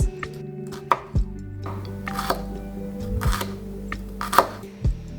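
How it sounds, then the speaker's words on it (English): A knife finely chopping garlic on a cutting board, with a few sharp distinct taps spaced irregularly against a steady background hum, close and fairly loud. "we want to finely chop the garlic"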